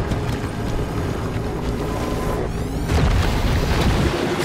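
A bomb box blowing up in the driving survival game Pacific Drive, a loud, close, deep rumbling boom that swells and rolls on for several seconds with no voices.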